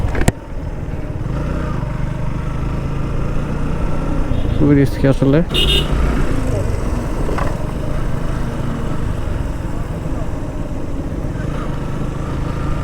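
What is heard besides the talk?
motorcycle riding in third gear on hilly road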